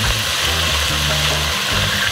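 Tofu frying in a pan while camper van cooking, a steady dense sizzle and hiss of hot oil filling the sound without a break, loud and close, with a low rumble underneath.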